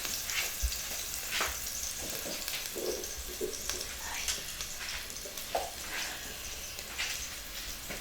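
Food sautéing and browning in a frying pan gives a steady, soft, continuous sizzle with faint occasional clinks, fairly quiet and heard alone without speech.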